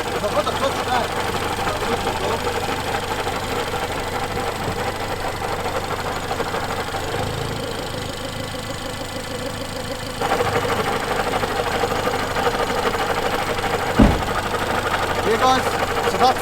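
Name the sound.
Ford Fiesta ST-2 idling with bad gearbox bearings, clutch down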